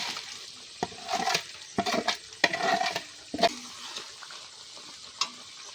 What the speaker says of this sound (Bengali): এবার আমরা ভেন্ডিটাকে দিয়ে দেবো এর মধ্যে